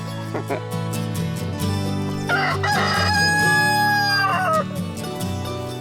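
A rooster crows loudly nearby over a background of clucking chickens, the crow rising and trailing off in the middle.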